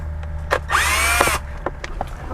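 A power drill backs a screw out of the cup holder in the center console of a 2016–2023 Toyota Tacoma: one close, loud whirring burst of about half a second, framed by soft clicks and handling knocks.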